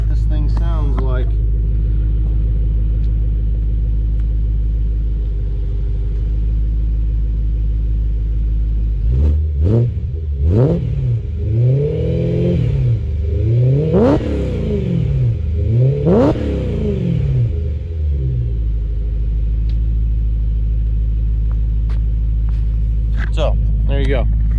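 A BMW M3 with the S65 V8 runs at idle, a steady low rumble that swells through several short revs in the middle before settling back to a smooth, mellow idle.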